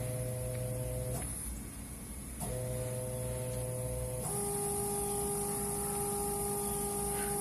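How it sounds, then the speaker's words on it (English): A CNC milling machine cuts a circle with an end mill, giving a loud, continuous mechanical whine with steady tonal hum and shifting pitch as the spindle and axes move, with no talking. "the machine is actually moving. It's cutting this circle right here."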